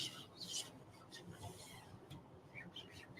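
Burnishing a silk screen transfer by hand, with a steady soft rubbing and rasping scrape that keeps going close up and quietly the whole time, with no talk.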